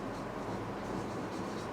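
A pen or pencil writes numbers by hand on paper, a close, continuous scratchy rasp with faint strokes under a soft, steady background hiss.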